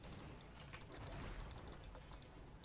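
Typing on a computer keyboard during a Heroes of the Storm match, a quick run of light, close key clicks over quiet game ambience.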